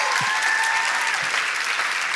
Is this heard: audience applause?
yes